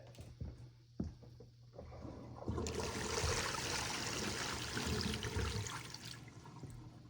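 Water runs steadily from a leaking toilet flushing pipe in a bathroom, a close, continuous hiss and trickle that swells after a few quiet seconds of faint drips and knocks, with no talking.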